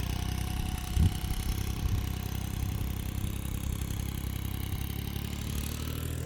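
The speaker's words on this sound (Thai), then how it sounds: "เป็นเครื่องยนต์สามสูบยี่สิบสองแรงนะประหยัดมาก" A small three-cylinder, 22-horsepower diesel tractor engine idles steadily nearby with a low, chugging rumble and a brief clank partway through; no one speaks.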